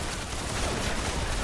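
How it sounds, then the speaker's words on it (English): Dense, continuous gunfire from a video game shooter, a steady loud barrage of overlapping shots with no clear gaps throughout. "I am getting so many shots missed on me."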